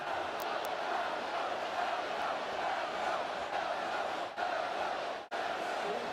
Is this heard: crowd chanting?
yes